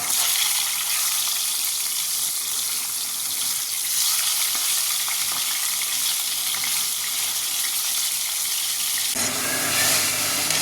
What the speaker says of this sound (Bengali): মাছ তো ভাজা হয়ে গেছে, এই দেখো বেশ সুন্দর ভাজা হয়েছে।